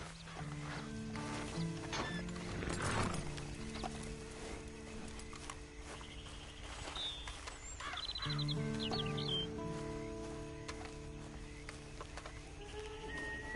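Horse hooves clip-clop in a PS4 video game, mixed with birdsong and game ambience, while a low musical drone hums underneath; a faint whinny rises briefly in the middle.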